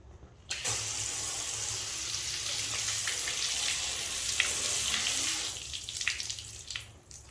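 Water pours steadily over a graphene-waxed car panel, a continuous close splashing rush like a running hose that starts abruptly and holds for several seconds, with no talking.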